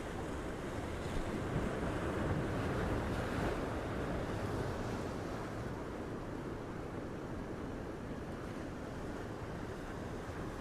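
Ocean surf at the Gold Coast washes in a continuous broadband roar, steady and fairly loud, with wind buffeting the microphone throughout and no voices.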